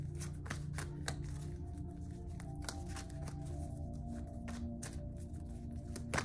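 Tarot cards are shuffled for a reading, giving quiet, repeated papery riffles and snaps in an uneven rhythm, close and fairly soft, with no talking.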